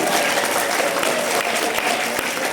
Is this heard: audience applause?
yes